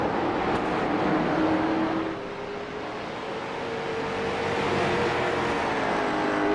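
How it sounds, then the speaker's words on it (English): A late model race car with several hundred horsepower roars around the track, its engine note holding steady and loud with a slight dip and recovery as it carries on, no talk over it. "that late model has several hundred horsepower, more than the street stocks."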